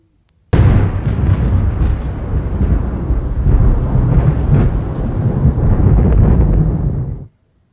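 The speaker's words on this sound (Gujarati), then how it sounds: "અમરેલી શહેર અને આસપાસના ગ્રામ્ય વિસ્તારોમાં ધોધમાર વરસાદ ખાબક્યો છે" Heavy downpour in Amreli with a sustained roar of thunder rolling loudly and continuously for several seconds, then cutting off abruptly.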